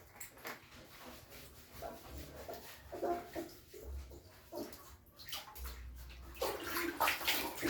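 Water splashes and runs intermittently during Maria's first bath, quiet and uneven, with soft sloshing bursts and occasional movement noises.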